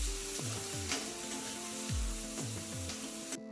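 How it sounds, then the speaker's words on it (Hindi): Steady sizzling of boiled chickpeas frying in a hot pan, with a few scraping stirs of a spoon against the metal, no voices. "अब इनको अच्छे से चलाकर भून लेंगे।"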